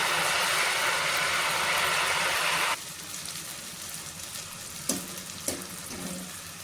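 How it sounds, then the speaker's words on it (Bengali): Gram flour bundi droplets frying in oil over medium heat, a dense loud sizzle that drops suddenly to a quieter bubbling, with a couple of sharp clinks near the end. "মিডিয়াম আঁচে বুন্দিগুলো ভেজে নিতে হবে"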